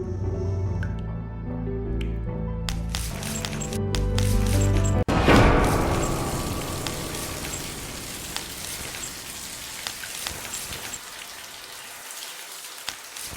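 Broken pipe bursting in The Cat Lady game: a loud sudden crack, then a steady hissing rush of spraying water that pours on and gradually settles, with occasional drips, no talking.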